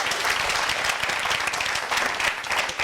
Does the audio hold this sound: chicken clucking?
no